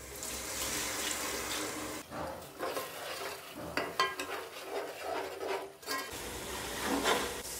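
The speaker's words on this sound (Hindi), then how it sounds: "थोड़ा सा पानी शामिल करेंगे ताकि हमारा मसाला बहुत अच्छे से भून जाए।" Water poured into frying spices for Peshawar-style siri paya, hissing and sizzling with stirring clatter, fairly close, in bursts over several seconds.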